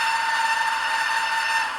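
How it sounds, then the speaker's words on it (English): A Hornby TTS sound-equipped model steam locomotive sounds one long, steady whistle, a sustained tone held for the whole moment and heard close with no talking. "Let's have a long one then."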